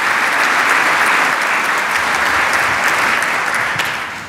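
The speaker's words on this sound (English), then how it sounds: "Can we please give those people and those organisations a round of applause?" Audience applause at an oration event honouring sponsoring organisations, a dense steady wash of many hands clapping throughout, loud and even before tapering slightly at the end.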